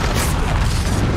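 A loud, sustained fiery blast from the Incendio spell in Hogwarts Legacy fills the frame with dense, rumbling roar and crackle, heavy and continuous throughout.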